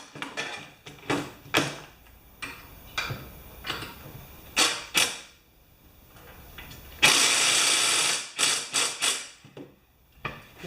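Repeated short ratcheting bursts on a Craftsman 21-inch Honda-powered mower blade, with loud clicking runs at uneven intervals and one longer sustained ratchet stretch midway, close and without speech.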